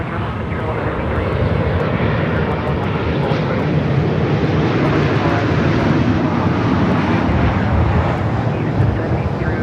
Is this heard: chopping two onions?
no